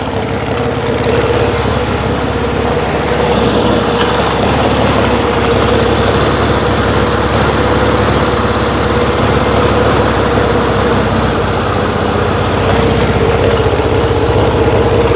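A Yamaha XS1B motorcycle engine idles steadily and loudly up close, its even rumble holding for the whole stretch with no talking.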